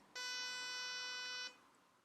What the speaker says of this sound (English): Here's a pulse train.